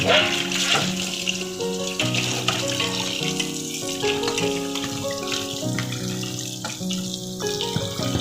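Pomfret fish is rinsed under a running kitchen tap, water gushing and splashing steadily and loudly close by, with clattering knocks as the fish is handled beneath the stream.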